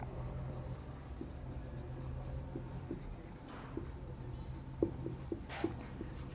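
Chalk tapping and scratching against a classroom board during a physics lesson, a steady run of faint strokes with a few sharper taps near the end, under a continuous low room hum.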